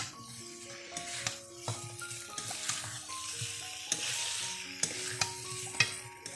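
Chicken kosha stirred and fried in a pan, a steady sizzle with repeated scraping stirs and occasional clanks of the spatula, close up with no talk.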